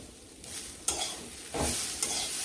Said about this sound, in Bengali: ঢাকনা দিয়ে একটু ভাজি করে নেব